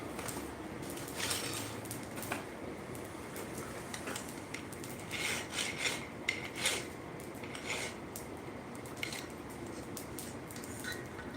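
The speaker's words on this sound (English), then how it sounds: "Just a little bit of hot filing." Hot filing on a small forged steel mouse, quiet scraping rasp strokes in irregular bursts with faint metallic clinks, close but soft, without speech.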